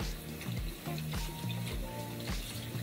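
Water runs and splashes as a face mask is rinsed off at a sink, a close, soft trickle broken by rhythmic splashes from the hands over a few seconds.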